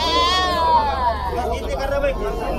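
A goat bleats in a long, wavering cry and then again more softly at a busy village goat market, with murmuring people talking nearby.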